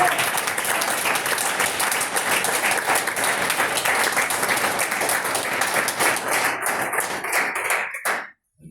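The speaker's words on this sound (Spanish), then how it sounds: "Dale palmas al Señor, por favor." A church congregation claps along during a Spanish-language sermon on the resurrection, dense loud rhythmic clapping that continues steadily before stopping abruptly near the end.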